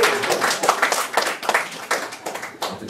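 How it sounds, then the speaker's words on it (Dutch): A small audience at an acoustic club gig claps loudly and close by. Uneven individual handclaps pile up in a dense, lively burst. "jullie mogen nu jullie zelf een applaus geven voor jullie goede smaak"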